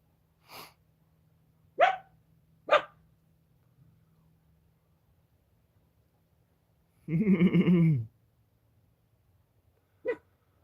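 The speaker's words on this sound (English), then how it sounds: "That's my neighbor's little doggy." A neighbor's small dog gives a few short, sharp yips spaced out over quiet stretches, then a longer burst of several rapid barks and one final yip, heard fairly close with no other sound.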